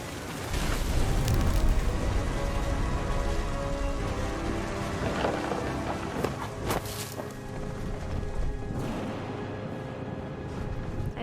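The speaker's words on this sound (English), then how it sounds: "Thunder sounded much too close and full of angry power." Steady, dense rain pours in the video game What Remains of Edith Finch, with heavy thunder rumbling through it in low bursts throughout, loud and close.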